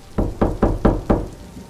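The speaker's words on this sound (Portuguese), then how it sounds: "Alguém bateu à porta." Five firm knocks on a door, evenly spaced and close, each a dull wooden thud with a brief decay, heard alone without talk.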